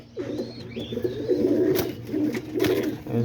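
Homing pigeons in a nest box, with a newly hatched chick, give soft, continuous cooing and low murmuring close by, joined by a few faint chirps and light rustles.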